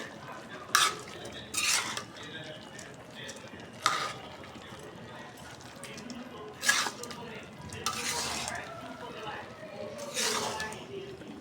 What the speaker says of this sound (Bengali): চাল দিয়ে আবার একটু ভালোভাবে কষাই নেব।